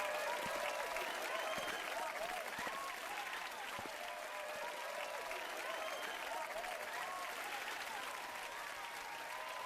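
A crowd in the game Final Fantasy XIV cheers and applauds after a performance, a dense, continuous wash of clapping and cheers that holds steady and sounds somewhat distant.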